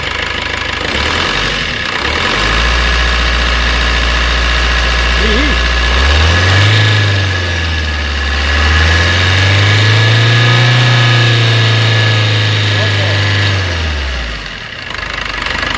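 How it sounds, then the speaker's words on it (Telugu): A used car's engine idles and then revs up and down in slow swells before settling back, heard loud and close. "సో ఇంజిన్ సౌండ్ అయితే మనకి స్మూత్గా ఉందండి"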